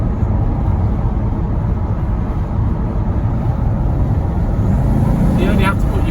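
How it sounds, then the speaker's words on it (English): Inside a Bentley Arnage T under hard acceleration, a deep, steady engine drone fills the cabin as the turbos build boost, and someone speaks briefly near the end. "You only have to put your foot down, and those turbos will kick in."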